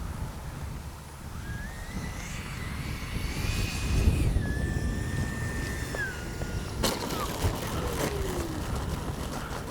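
A Freewing 90mm Zeus RC jet with landing gear down makes a low pass at an outdoor flying field, its whining turbine rising and sliding in pitch over a constant wind-like rush, moderately distant.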